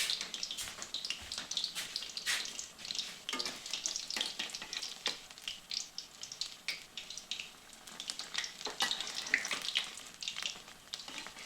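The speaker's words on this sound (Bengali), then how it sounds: "এগুলি তেলের মধ্যে ছেড়ে দিচ্ছি, দিয়ে ভালো করে লাল লাল করে ভেজে নিচ্ছি।" Batter-coated paneer pieces fry in hot oil for crispy paneer, a dense, continuous crackling sizzle with frequent sharp pops and spits, close and fairly quiet, without any talking.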